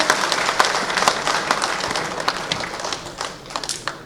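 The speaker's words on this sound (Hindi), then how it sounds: "एक बार जोरदार तालियों से उनका स्वागत कीजिए।" Audience at a Harela festival address by the governor giving a hearty welcome ovation, loud crowd clapping with crisp individual claps standing out, gradually thinning toward the end.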